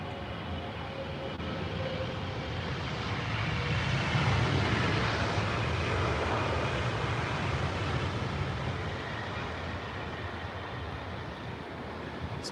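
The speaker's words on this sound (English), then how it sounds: "You can hear it whistle as well. It's very distinct to the 777." A Boeing 777 passes at Heathrow Airport, a loud, broad jet roar that swells to a peak mid-way and holds steady, with a faint high whistle running through it and no talk.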